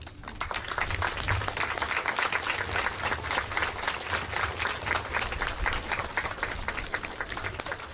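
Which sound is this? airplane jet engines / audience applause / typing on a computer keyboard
audience applause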